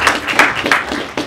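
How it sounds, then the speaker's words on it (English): Scattered, uneven clapping comes from a group of participants at a competition event, with distinct close claps and short bursts rather than a full roar. "So a big round of applause for you guys for coming out and participating."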